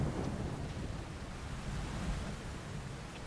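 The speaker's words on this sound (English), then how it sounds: "you brought the rain from England, which the ground really needs it" Steady rain with a low rumble of thunder in coastal Naples, a dense continuous wash of sound with no voices.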